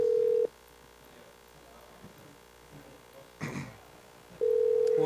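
Telephone call placed on air: a steady dial tone, a long quiet stretch with faint background sounds and a brief burst of noise, then the tone returns loud and clear.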